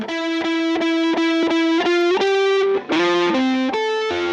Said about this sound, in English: so there's our reverb